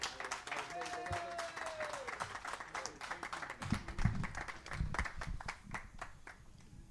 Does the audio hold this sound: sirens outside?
no